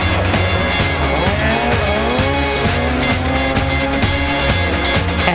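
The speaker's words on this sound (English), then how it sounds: "Stuart Clark is fully lit in his RS 1800." Ford RS 1800 rally car at full throttle through a park chicane during a 2004 stage rally, its engine screaming loud and close with rapid gear changes, rising revs and tire squeal.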